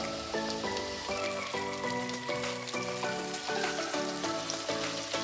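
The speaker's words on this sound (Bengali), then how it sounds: "এবার পেঁয়াজ আদা রসুনটা সামান্য কিছুক্ষণের জন্য ভেজে নেব।" Onion, ginger and garlic paste with chopped tomato frying in a pan, a soft continuous sizzle running beneath louder melodic background music.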